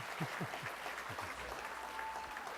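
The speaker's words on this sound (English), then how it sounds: "give him a nice round of applause too" Applause from an audience at a business excellence awards ceremony, a moderate, steady patter of clapping that carries evenly through the moment with a few louder claps near the start.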